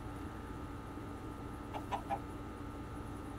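A few soft, brief Minecraft chicken clucks in a quick cluster, heard over a steady low hum of game background noise.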